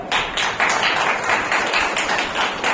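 Clapping from an audience at an award ceremony, a steady dense patter of many hands filling the room for a few seconds, loud and continuous with no voices over it.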